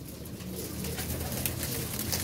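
Pigeons coo softly and continuously in a short, steady stretch of low murmuring with a faint wash of background noise.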